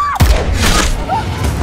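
A sharp, heavy gunshot from a film scene bursts out near the start, followed by a booming rumble and a noisy, chaotic action-scene wash that stays loud to the end.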